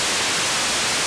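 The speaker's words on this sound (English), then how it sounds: "it's closer to pure white noise" Main output of a Hexinverter VCNO voltage-controlled noise oscillator, a loud, even burst of near-white noise, a bright full-spectrum hiss with no pitch or variation, alone without voices.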